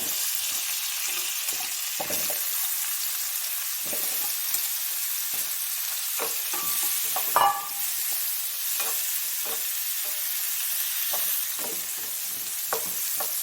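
Two hundred grams of mushrooms stir-fry in butter and garlic, a loud, constant bright sizzle running throughout with repeated short scrapes and taps from stirring.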